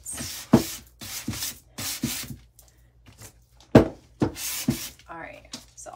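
Painted craft wall art, made from a recycled blue jean pocket, having its edges scuffed by hand sanding, short rough rubbing strokes in uneven bursts with gaps between them, close up, while someone talks.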